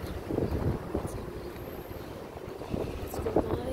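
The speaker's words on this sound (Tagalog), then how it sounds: "Sobrang mahangin." Strong gusty wind buffets the microphone outdoors, a steady low rumble that swells again toward the end, with no clear voices over it.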